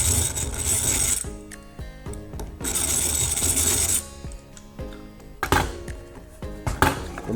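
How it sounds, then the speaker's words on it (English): Holes in wooden folding-stool parts being countersunk by hand, bursts of gritty, whirring cutting alternating with clicks and knocks of the tool being repositioned, close and clear. "I'm just going to carefully countersink each of the holes"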